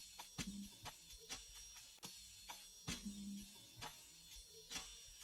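A stretched live trap percussion loop built in FL Studio plays quietly: sparse, evenly spaced clicky ticks and soft hits repeating in a steady groove.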